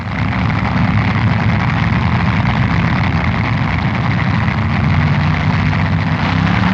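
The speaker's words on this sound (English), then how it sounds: "Carbone feeds his supercharged engine too much fuel" A supercharged drag racing car engine at the 1968 NHRA US Nationals roars loudly and steadily with a heavy low rumble, sustained without a break and with no voices on top.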